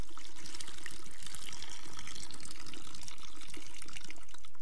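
Water poured from a container into another vessel during a children's Christmas stage show with a ventriloquist, a steady close splashing pour that runs without a break and with no talk over it.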